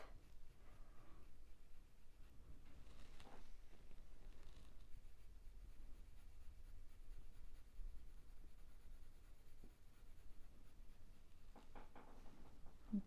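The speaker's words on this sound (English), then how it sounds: "I don't want a straight line, so I'm just flicking the pencil off." A pencil on paper sketches mallard drake duck feathers with soft scratchy strokes and quick flicks, quiet and close over a faint steady background hiss.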